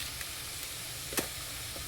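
Coriander mixture fries in hot oil with a soft, steady sizzle, marked by one brief sharper crackle midway and a few faint pops, with no voices.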